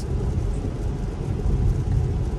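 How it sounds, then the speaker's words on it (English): Dense, steady roar of heavy rain drumming on a moving Tesla, mixed with low road rumble, loud and unbroken throughout. "it's now harder rain because I'm moving faster than I was earlier"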